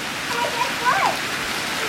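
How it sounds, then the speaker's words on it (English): Heavy rain from Hurricane Irene falls in Philadelphia, a constant loud hiss of downpour without breaks, with a faint tonal sound briefly rising above it. "I'm not sure if you can see all the rain coming down near it."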